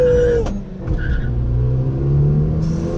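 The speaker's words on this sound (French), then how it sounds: "Wheel spin, wheel spin, wheel spin." Renault Megane 3 RS Trophy with Akrapovic exhaust spinning its wheels, loud close engine roar and revving with a sustained tire squeal, rising again near the end.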